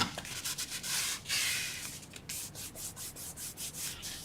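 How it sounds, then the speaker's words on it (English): A hand or brush rubs glue into the joints of a small wooden box, making quick, rhythmic scratchy strokes, close and fairly quiet, with no talking. "Varnish the glue in."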